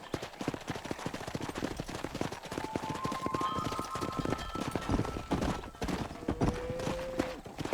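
Galloping horse hooves from the video game Red Dead Redemption, a steady fast clip-clop running throughout, with faint music tones and cattle-herding game ambience layered over it.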